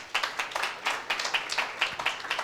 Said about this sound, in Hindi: हमें जीवन मिला। क्या जोरदार ताली दें।